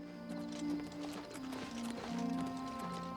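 Horse hooves clip-clop at a steady trot in the Elder Scrolls IV: Oblivion Remastered video game, faint and even under sustained background music.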